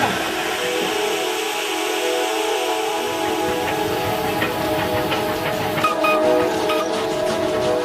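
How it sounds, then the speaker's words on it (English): A steam locomotive on the Nilgiri Mountain Railway rumbles past steadily with a hissing, mechanical clatter and a faint high whine, continuous and fairly close, no voices. "the old bull elephant lets the train pass without a fuss"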